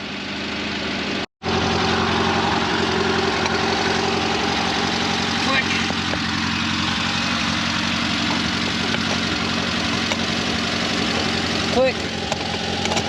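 A 1975 Volkswagen Super Beetle that sat unused for 20 years idles with a steady, fairly quiet mechanical hum and light knock, loud and close. One brief dropout interrupts it early on, and voices are faintly present.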